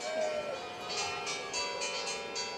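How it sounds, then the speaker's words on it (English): Several church bells ring out at noon in a faint, distant chime, overlapping strikes drifting through quiet outdoor ambience in a Cinque Terre town, Italy. "it plays an amazing chime of all the bells"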